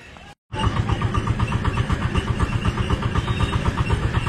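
After a brief silence, the small motor of an engine van chugs loudly and steadily close by, with a regular thumping rhythm, in the Sundarbans, West Bengal.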